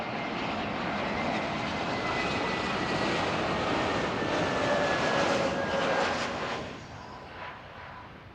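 A jet aircraft takes off at Zurich Airport, its loud, steady engine roar rising and then fading noticeably toward the end, with no talk over it.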